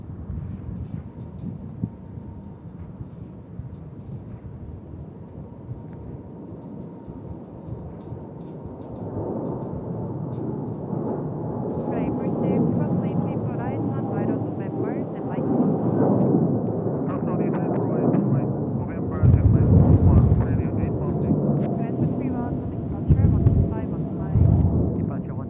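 Cargo airplane taking off from Incheon Airport bound for Anchorage, a distant jet roar swelling from a faint rumble into a loud broadband thunder, with a voice talking over it.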